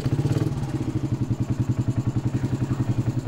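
A four-cylinder sport motorcycle engine idles and revs with a steady, rapid pulsing rhythm, close and fairly loud, with no talking.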